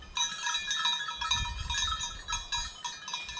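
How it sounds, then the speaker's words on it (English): A local goat herd sounds from a distance outdoors, with faint bells or bleats ringing over a steady low rumble of wind or ambient noise, no voices present. "I seem to have kicked the local goat herd off."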